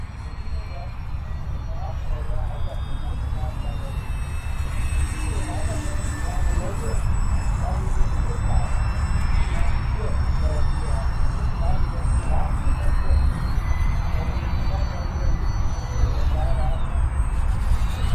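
A UMX Waco RC model biplane flies overhead on 3S power, its electric motor giving a steady, fairly loud whine with slowly shifting pitch throughout, while someone talks over it outdoors.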